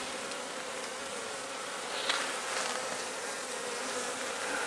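Honey bees buzz in a steady, dense drone while a hive is opened for inspection on a cool day, the close, continuous hum holding level with slight swells throughout.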